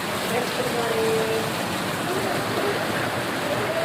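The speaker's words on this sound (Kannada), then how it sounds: "ಮಳೆ ನೋಡ್ರಿ ಎಷ್ಟು ಜೋರದ ಎಲ್ಲ ಕಡೆ ನೀರು ಹರಿಯತಾವ್ರಿ" Heavy rain pours down with water running everywhere, a dense, even roaring hiss that stays close and constant throughout.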